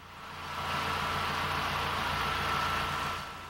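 A car engine running smoothly during a test drive, a steady mid-level hum and whir that swells slightly and holds evenly, heard alone without speech.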